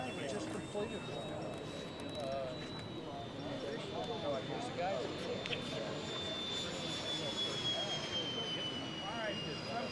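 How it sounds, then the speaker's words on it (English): An HSD Boeing 747 electric ducted fan RC jet makes a low gear-down pass, its steady whining fan roar continuous throughout, with a high whistling tone slowly shifting in pitch as it passes and people talking over it. "All right, 747 gear pass."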